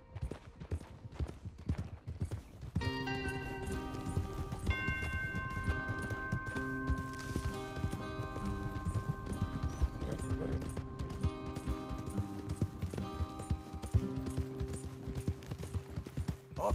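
Horses gallop in the video game Red Dead Redemption 2, a dense run of hoofbeats that starts a couple of seconds in and keeps going over layered game music, with faint voices underneath.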